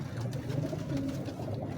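Pigeons kept in a fancier's loft give low, continuous cooing close by, a steady murmuring drone with no talk over it.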